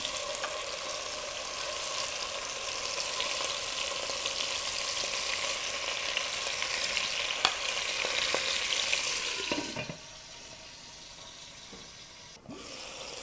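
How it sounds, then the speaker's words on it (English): Lamb meat browns in a hot pan for a lamb and orzo soup, giving a loud, steady, crackling sizzle that runs for several seconds and then drops away sharply, leaving a quieter hiss. "that's definitely the sound you want to hear when you're browning meat"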